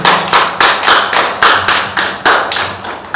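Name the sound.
audience applause at a workshop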